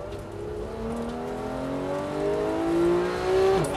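A GT3 race car on a hill-climb course is heard from inside, its engine whirring as revs climb and fall through gear changes, continuous and fairly loud with no talking.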